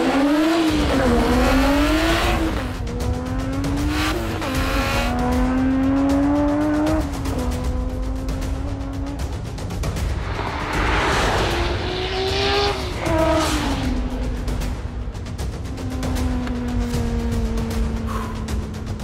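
In a drag race between a tuned turbo Volvo hot rod and a Tesla Model S, a loud engine revs hard and climbs through repeated gear changes for many seconds, with brief tire squeal and no speech.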